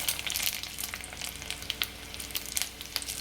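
Mustard seeds and lentils sizzle and crackle in hot oil for a dal tempering, a steady fry punctuated by sharp popping spatters, close up.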